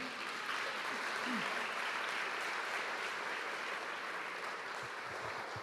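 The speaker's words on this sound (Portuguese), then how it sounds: "Aplauda ao Senhor" A church congregation applauds together in praise, a soft, steady wash of clapping heard from a distance, with a faint voice beneath it toward the end.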